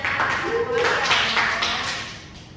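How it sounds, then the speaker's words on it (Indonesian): Classroom applause for a student's presentation on disaster preparedness and landslides, a steady burst of many hands clapping close by, tapering off toward the end. "Tepuk tangannya."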